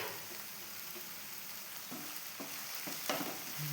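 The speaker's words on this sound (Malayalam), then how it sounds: "അപ്പോൾ നമുക്കെല്ലാം ഒന്ന് ഇളക്കി കൊടുക്കാം." Tomatoes for a chickpea curry frying on low heat while being stirred in a pan: a faint, even sizzling hiss with a few soft scrapes near the end.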